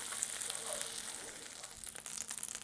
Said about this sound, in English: now we're going to butter up our griddle because it's nice and hot